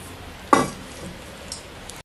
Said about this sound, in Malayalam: ഇനി നമുക്കിതൊന്ന് വറവിടാം.